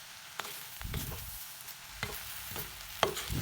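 Vegetables for hattiya kottu are stirred in a pot, a quiet sizzle punctuated by several scraping strokes and soft clinks of the spoon against the pot at irregular intervals.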